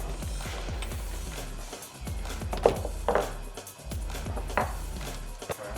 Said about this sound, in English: Hold on to the tap and unscrew this.